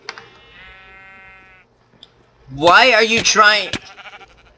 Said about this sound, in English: Try to kill the sheep